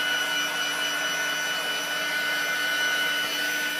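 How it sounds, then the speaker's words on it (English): A heat gun blows steadily and continuously at close range, a constant whirring roar with a faint high whine, drying a layer of snow texture on a handmade Christmas card. "with my heat gun"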